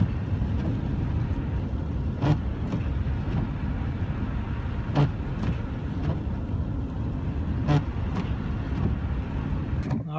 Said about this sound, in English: Driving through the blizzard.